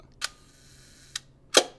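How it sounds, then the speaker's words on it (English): Hasselblad 500CM medium-format camera in mirror lockup mode: three separate crisp mechanical clicks and clacks, near and loud, with a louder final snap as the shutter fires, quiet gaps between them, no voices. "So it locks the mirror up, opens the secondary shutter, but the lens is closed."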